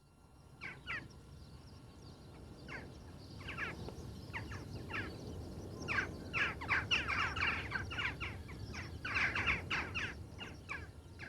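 Crows and jackdaws at a Sardinian stone nuraghe tower, the nuraghe Corvos near Silanus, give repeated bursts of calls and chattering that build in density, moderately near over an open-air outdoor background.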